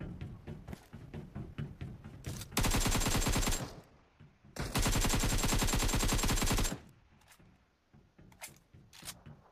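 Bursts of rapid automatic gunfire from PUBG Mobile, two long loud sustained volleys with scattered single shots and clicks around them, no talking.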